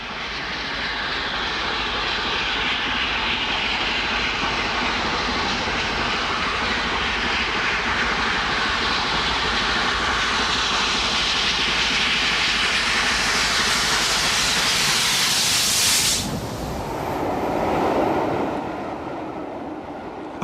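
King Arthur class steam locomotive passing Dinton on a single-track line, a loud sustained roar and rumble of engine and train building up close, then cutting off abruptly and trailing away.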